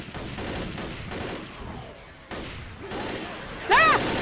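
Gunfire rings out in a Left 4 Dead game session as players shoot at a gas station, with repeated broadband bursts of shots through the clip and a louder, sharper burst near the end.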